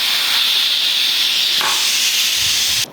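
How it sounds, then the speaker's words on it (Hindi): Steam hissing out of a pressure cooker after about an hour of cooking steamed mutton: a loud, close, continuous hiss that surges briefly partway through and cuts off sharply at the end. "तो जी स्टीम निकल गई है कुकर की"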